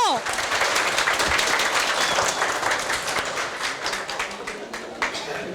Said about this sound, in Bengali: একবার জোরে হাততালি হয়ে যাক এখানকার স্টুডেন্টসের জন্য